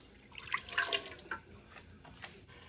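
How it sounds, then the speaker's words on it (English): A cup of water poured into a large pot over high heat for homemade cranberry sauce, a short splashing gurgle that swells and then trails off into light drips. "We're going to add in 1 cup of water"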